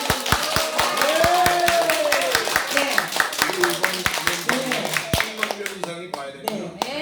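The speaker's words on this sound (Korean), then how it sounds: "다시 한번 힘찬 박수" An audience at a church gathering claps in sharp, distinct hand strikes that start dense, then thin out and grow sparser, while a voice talks over them.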